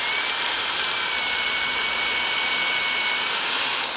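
A power drill fitted with a paddle bit bores shallow anchor holes near the edge of a wooden stair, a steady loud high-pitched whine running without a break, close up.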